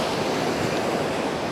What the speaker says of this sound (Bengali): এখন প্রপারলি ঢেউয়ের শব্দটা কিন্তু কানে আসছে।